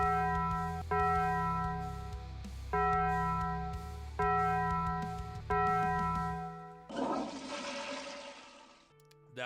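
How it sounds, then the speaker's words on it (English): A ringing bell sound effect strikes five times at a steady pace, each loud tone decaying before the next, then gives way to a rushing, watery whoosh. "Let's ring that bell,"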